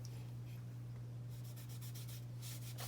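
Sandpaper rubs across a painted wooden Uncle Sam gnome to take it back to raw wood, quiet at first and then a run of quick scratchy strokes, faint over a steady low electrical hum.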